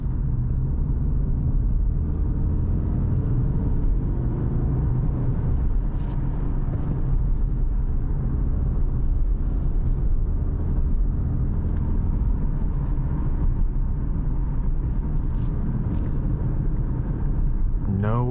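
Subaru Outback wagon on the road, a steady low engine and road rumble droning continuously throughout with faint tyre and cabin noise, people talking over it.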